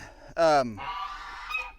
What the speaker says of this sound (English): we got the guard goose over here just going bonkers